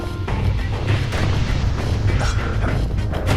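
A security skiff's guns fire at a boat in the Bastion game, a loud burst of booming shots and crashes over a few seconds, close and unaccompanied by talk.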